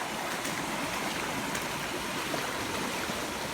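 Rainwater pours in steadily from an overflow after heavy rain, a continuous close rushing splash with no breaks.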